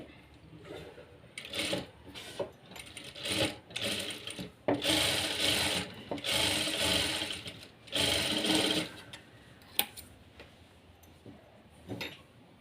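Sewing machine stitching the centre tucks of a blouse front, running in repeated bursts of whirring mechanical stitching separated by short pauses and a few sharp clicks, close and fairly loud with no talk.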